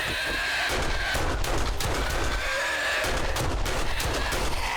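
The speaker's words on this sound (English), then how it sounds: "let's just queue up some shots" Gunfire in the zombie survival game 7 Days to Die during a fight in a zombie-filled barn: dense, continuous bursts of shots over a noisy background of combat sounds, with no talking.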